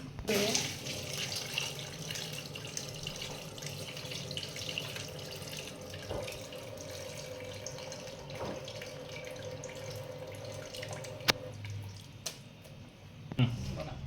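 Hot water pours steadily into a pot of crabs in a continuous splashing stream, with a few clinks of metal near the end.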